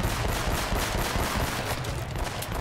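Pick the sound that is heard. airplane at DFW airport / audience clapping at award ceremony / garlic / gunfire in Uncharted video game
gunfire in Uncharted video game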